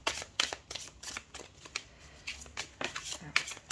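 Tarot cards being shuffled for a reading, a run of crisp close riffles and flicks in quick bursts, with someone speaking French between them.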